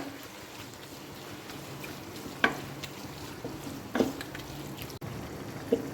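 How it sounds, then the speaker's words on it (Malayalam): Squid stir-fried in a pan, giving a faint steady hiss with a few isolated scrapes and clinks as it is moved around, quiet and close with no voices. "ഇനി നമുക്കിതൊരു രണ്ട് മൂന്ന് മിനിറ്റ് നേരം ഒന്ന് ഇങ്ങനെ വഴറ്റിയെടുക്കാം"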